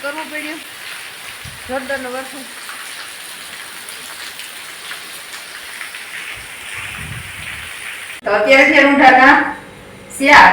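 Steady rain falls in a continuous wash of patter while a voice speaks briefly at the start and louder talk comes in near the end.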